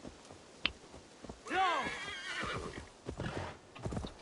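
Horse in the video game Assassin's Creed Valhalla whinnies loudly with a sharp rising neigh, alongside clip-clopping hooves and a brief click before it.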